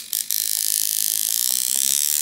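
A Sidewinder 7 tattoo machine running at 4.3 volts gives a steady, close, high-pitched electric buzz with a fast even rhythm, starting just after a brief click.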